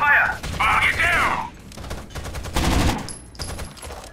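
Gunfire in the tactical shooter game Rainbow Six Vegas, with rapid bursts of automatic shots through the first second and a half and scattered shots later, mixed with game sounds and some talk.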